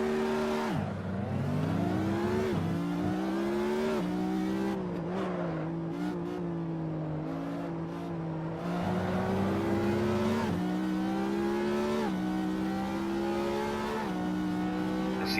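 A powerful car's engine in the racing game Assetto Corsa revs steadily and loudly, its pitch rising and falling with gear changes and throttle, close and continuous with no talk.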